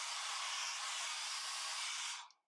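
Hair dryer blowing steadily on medium-length hair in a volumizing salon-style blowout, a loud continuous airy roar that cuts off near the end with no talking.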